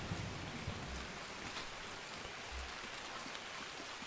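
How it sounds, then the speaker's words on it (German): Steady rain falling across an open shoreline map in Escape from Tarkov, a dense, even hiss that fills the scene at moderate level, with a couple of low rumbles underneath and no voices. "Mal wieder schön im Regen."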